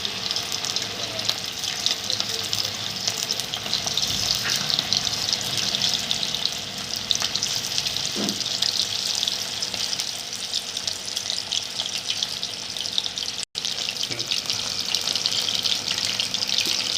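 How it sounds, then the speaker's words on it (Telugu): Chicken pieces for chicken Manchurian fry in hot oil, a steady, even hiss of bubbling oil that holds close and constant throughout, with no talking. "ఆయిల్ వేడైందండి. ఇప్పుడు ఇలా చికెన్ పీసులు చక్కగా విడివిడిగా వేసుకుందాం."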